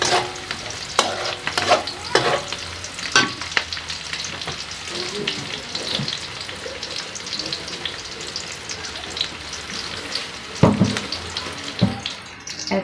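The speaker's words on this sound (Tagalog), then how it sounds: "Kaya gigisa ko yung ginamos." Ginamos, a fermented fish paste, sizzles and fries in a pan while a utensil stirs and scrapes it in irregular bursts, close and fairly loud throughout.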